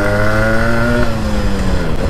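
A Yamaha RX 100 motorcycle engine roars loudly and steadily up close, its pitch climbing as it accelerates through second and third gear, with no voices over it.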